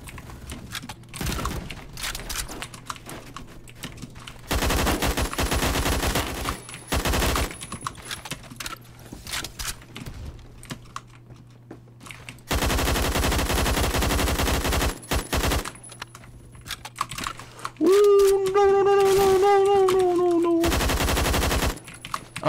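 Assault rifle gunfire in a video game, loud sustained automatic bursts that start and stop repeatedly across the scene, with brief gaps of quieter game noise and a tonal in-game sound near the end.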